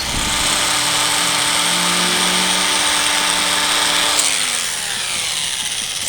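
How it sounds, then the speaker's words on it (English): An angle grinder cutting into a carbon fibre car bonnet, giving a loud, steady high-pitched whine with a gritty cutting hiss that drops in pitch near the end as the tool slows, with no talking. "I'm going to get the grinder out and start cutting my carbon fibre"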